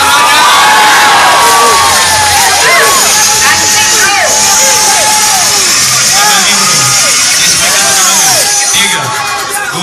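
A loud crowd cheers and shouts continuously at a bodybuilding competition in Maluku, with excited whoops, children's voices and babble filling the hall throughout.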